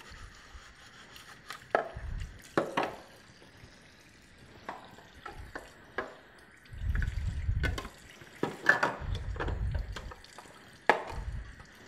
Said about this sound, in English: you don't want to forget to clean the top assembly. Just rinse it out.